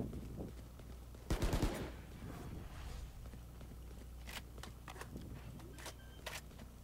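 Gunfire in the Valorant video game: a sharp burst of rapid shots near the start, then scattered quieter shots and clicks over a low background hum.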